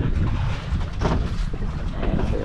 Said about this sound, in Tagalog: Makikita niyo po ang hangin, grabe pa rin, amihan.